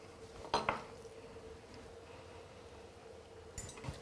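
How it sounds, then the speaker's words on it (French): Whiting fillets set down onto buttered plates, giving two quick clinks of dish and utensil near the start and another brief clatter near the end, close and quiet in a still kitchen. "Je vais prendre un tout petit peu de beurre et je vais beurrer mes assiettes. Je peux déposer maintenant mes filets."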